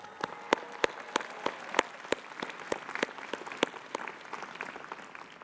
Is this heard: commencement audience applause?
yes